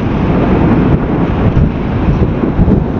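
Strong wind roaring across the microphone on a motorcycle ride near windmills between Kanyakumari and Dhanushkodi, a steady close buffeting rush with no break.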